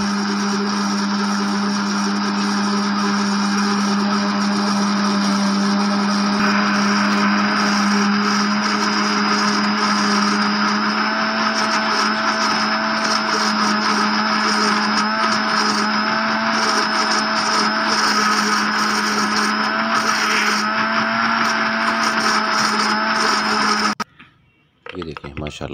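A blender grinds homemade egg mayonnaise in a steady, loud whir that holds for about twenty-four seconds and then cuts off abruptly. A short restart follows at the very end.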